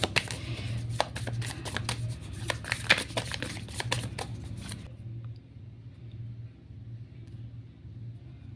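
Tarot cards being shuffled by hand, a quick run of crisp riffling flicks and taps close by, stopping halfway through and leaving a low background hum.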